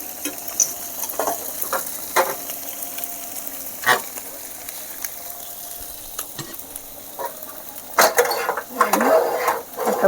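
A cooking pot is lifted off a home stove and a rice pot is set on, giving scattered metallic clinks and knocks over a low sizzling background, with a louder clatter near the end.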